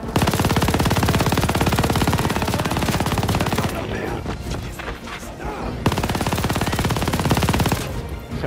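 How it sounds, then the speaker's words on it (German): A machine gun in the video game Call of Duty: Vanguard fires rapid continuous bursts at a plane propeller, pausing briefly and then resuming, loud and close with a dull rumble underneath. "schön, wie ich jetzt gegen Propeller schieße"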